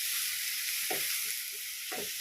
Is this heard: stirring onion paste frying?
yes